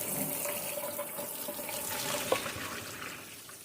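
Cold tap water runs steadily into a sink over cooked egg noodles at moderate volume, a continuous splashing hiss with a brief clink partway through.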